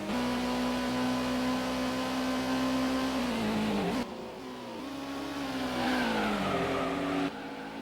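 A Toyota Supra race car in Gran Turismo on PS1 holds a loud, steady engine drone that dips and shifts pitch around gear changes, then climbs again as it accelerates, continuous with no voices.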